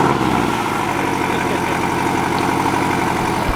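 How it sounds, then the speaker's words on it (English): A Porsche engine running just after a cold start idles with a steady, even, pulsing low rumble, close and fairly loud, with no voices over it. "let's get that cold start on the Porsche."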